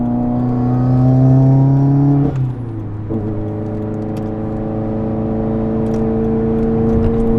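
A stock Nissan Skyline R32 with a blow-off valve revs hard in one gear, drops with a gear change and then pulls steadily again, a loud, close engine drone with no talk.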